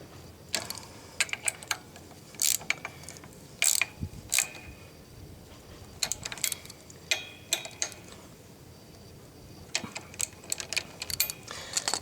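Ratchet tightening screws on an enlarged sidestand foot fitted to a BMW F800GS motorcycle: bursts of quick clicking in several separate runs, close and fairly loud, with quiet gaps between.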